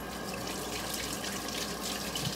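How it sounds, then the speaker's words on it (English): Hands rinsed under a running kitchen tap after coating fries: a steady, full rush of water splashing into a sink, close and unbroken for the whole stretch, with no talking. "Rinse the hands off."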